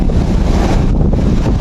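Loud, constant wind buffeting roars across the microphone while riding at speed, a dense rushing blast with no break and no voices.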